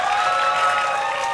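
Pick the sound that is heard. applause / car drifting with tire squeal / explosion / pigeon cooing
applause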